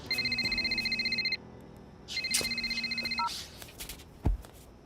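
A phone rings with a repeating electronic ringtone in two bursts, pausing briefly between them, close and clear, followed by a few clicks and a thump as the call is picked up.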